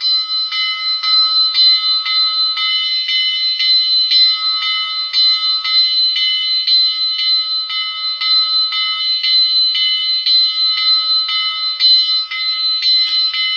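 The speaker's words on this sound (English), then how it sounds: "I'll just show you on the bell." A DCC sound decoder in a Mantua 2-6-6-2T logging steam locomotive model plays a bright, clear bell that rings steadily and repeatedly for many seconds with nothing else heard.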